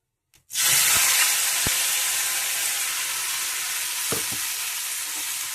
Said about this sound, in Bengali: এটা একটু ভালোভাবে ভেজে নেবো তেলের সাথে।